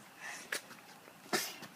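A single sharp sneeze bursts out mid-clip during outdoor trick-or-treating on Halloween, followed by a second louder sneeze-like burst a moment later, both close and brief against quiet street background.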